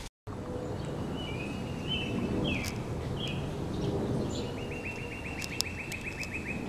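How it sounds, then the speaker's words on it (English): Birds chirping outdoors on a fine day, several short bright calls and a rapid trilling series over a steady low background rumble, moderately distant. "Just listen to those birds chirping."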